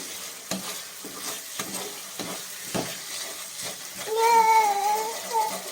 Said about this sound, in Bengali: এবার আমি ডুমুর আর আলুর টুকরোটা দিয়ে দিলাম ভালো করে মিশিয়ে নেবো মশলার সাথে বেশ ভালো করে নাড়াচাড়া করব